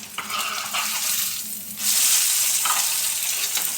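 Food frying in hot oil while a flatbread breakfast is cooked: a loud, continuous close sizzle and crackle that swells partway through as more food goes into the pan.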